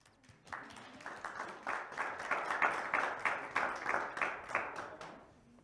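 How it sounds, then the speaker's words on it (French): A small group claps for prize winners at an award ceremony with a prime minister, a few distinct hands beating in a loose, near rhythm that swells briefly then settles, modest in volume. "donc on vous applaudit"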